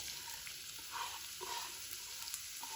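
Chopped onions sizzle in about half a cup of hot oil while kaleji masala is being made. The frying hiss is faint but steady, with occasional stirring clinks.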